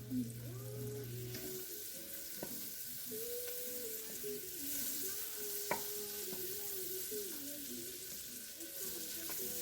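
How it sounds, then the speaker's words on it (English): Half a stick of salted butter melting in a French oven, a soft steady sizzle and faint crackle at low volume with a few light clinks, no talking. "I'm going to start off with a half a stick of salted butter. Go ahead and melt it down."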